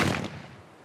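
A single gunshot from a gun being test-fired, a loud sharp crack that decays quickly into a short fading tail.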